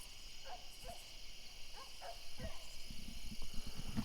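A coonhound bays in short repeated barks from a distance at night while treed, with crickets chirring steadily in the background.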